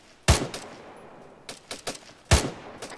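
Gunfire in a video game platoon training jungle drill: a sharp close shot, a quick cluster of lighter rapid shots, then another loud shot with a short tail, all over low background hiss.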